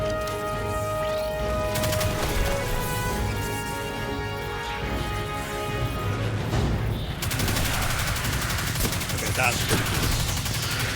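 Weapon fire in Destiny 2 on Xbox Series X, with a charging weapon whose rear capacitors build up as it shoots, as dense sustained rapid gunfire with rising tonal whines, loud throughout with a voice talking over it.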